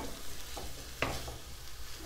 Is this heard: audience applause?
no